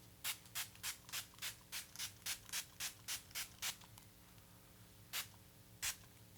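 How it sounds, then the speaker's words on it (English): A makeup setting spray bottle mists in a quick run of about a dozen even pumps, then two more spaced sprays, close and crisp. "We're going to finish everything off using the Essence Fix and Last 18-Hour Makeup Setting Spray"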